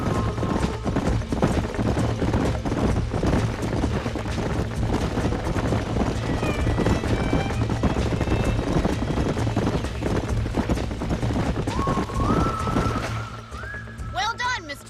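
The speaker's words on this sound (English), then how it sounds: "These are fine horses." Horses clip-clopping at pace in the western game Red Dead Redemption, steady hoofbeats over a dense mix of game ambience and music, with faint talking present.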